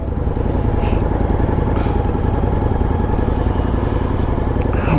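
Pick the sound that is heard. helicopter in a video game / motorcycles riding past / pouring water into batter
motorcycles riding past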